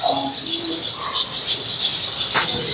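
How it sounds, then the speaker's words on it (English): Birds in a very large walk-through aviary coo and chirp in a dense, continuous chorus, with overlapping calls near and far and a brief flutter of wings, no talking over them. "Birds are going crazy."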